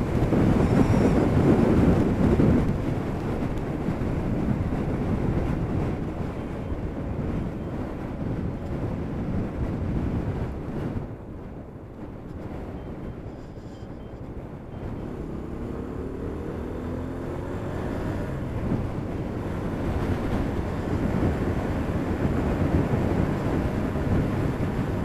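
Wind rushes and rumbles on high ground within sight of Blackpool Tower, loud at first, dipping briefly in the middle before gusting again.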